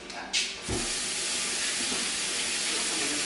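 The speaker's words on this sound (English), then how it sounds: "Let me wash my hands" Hands are washed under a running kitchen tap while frying buttermilk chicken: a steady, close rushing hiss of water that begins with a brief splash and carries on unbroken, with no talking.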